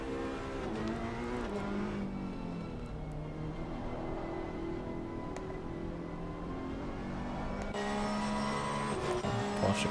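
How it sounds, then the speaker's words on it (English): GT3 race car driving out in Assetto Corsa Competizione, a steady engine drone with shifting pitch, moderately loud and continuous, joined by other car engine tones. "Hey, there's a GT3 driving out."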